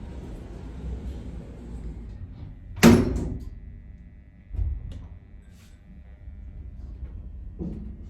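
Lift doors in a Leeds city centre shopping lift close with a firm thunk followed by a softer bump, heard near against quiet background hum.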